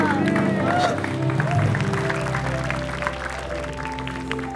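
A studio audience on an Indonesian television show claps briefly, moderate applause blended with crowd murmur, voices and background music.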